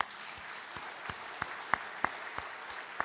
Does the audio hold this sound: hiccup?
no